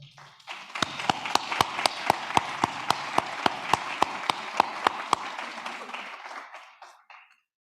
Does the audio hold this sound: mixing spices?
no